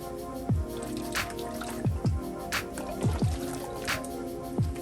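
A bottle of salad dressing is shaken in a home kitchen, producing a rhythmic series of wet sloshing, squishy knocks of liquid against plastic over a faint musical background, with no speech.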